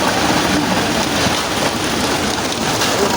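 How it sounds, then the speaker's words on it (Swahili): Steady rain pouring down beside a road under repair in Kenya, a dense, even hiss of drops striking the ground and surfaces, close and constant throughout. "Na mvua ndio hiyo."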